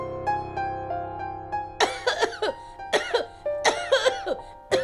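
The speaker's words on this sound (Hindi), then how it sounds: "आंटी जी की खांसी तो बढ़ती ही जा रही है" An older woman coughs in a run of harsh, closely spaced bursts, near and fairly loud, after a few seconds of quiet background music.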